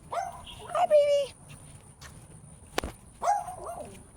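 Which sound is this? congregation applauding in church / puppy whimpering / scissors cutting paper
puppy whimpering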